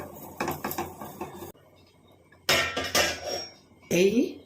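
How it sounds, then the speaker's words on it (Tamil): Metal pans clatter and clink in a few bursts, with short pauses between, as a kadai pan is set on the stove and cookware shifted nearby. "இப்போ கடாயை வச்சிருவோம், பாத்திரம் மாற்றிடுவோம்"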